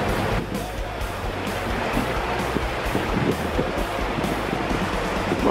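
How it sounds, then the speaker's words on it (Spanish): A strong current of the Río de las Papas surges around a 4x4 crossing it, a loud, continuous rushing of water with wind buffeting the microphone and engine rumble beneath. "estamos cruzando el río de las papas. Hay mucha correntada."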